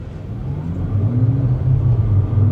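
A 2026 BMW M5 Touring pulls away in full electric mode. An electric motor's whine and road rumble build steadily and loudly inside the cabin, with no voices.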